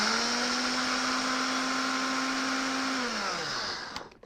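A bullet-style blender grinds rolled oats into flour, a loud steady high-pitched motor whine that holds for about three seconds and then spins down to a stop.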